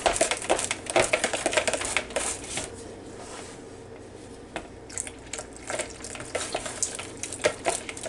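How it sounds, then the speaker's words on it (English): Electric mixer blending chocolate pudding ingredients, heard as busy clattering and whirring with rapid rattly bursts against the bowl that ease off midway and then pick up again, with no talking. "And today I am going to blend it with a mixer."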